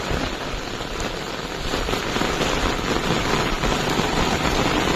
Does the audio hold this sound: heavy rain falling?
yes